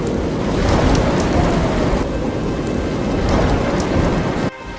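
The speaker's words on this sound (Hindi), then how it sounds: "बारिश रुक रुक कर बरस रही थी।" Heavy, steady rain pours down with deep rumbles of thunder rolling underneath, loud and continuous before cutting off abruptly near the end.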